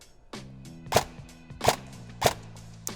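An airsoft gun fires BBs in three sharp, evenly spaced shots about three quarters of a second apart, each a crisp snap over a low mechanical hum and background clatter.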